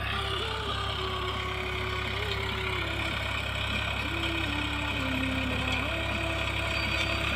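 A tractor runs steadily in a dusty field with a cutter attached, its engine droning at a constant idle-like hum with shifting whine tones, moderately distant and without talk.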